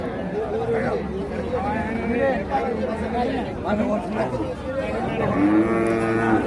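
A cow with a calf moos loudly near the end amid a noisy crowd of chattering voices at the busy outdoor Ambari cattle market.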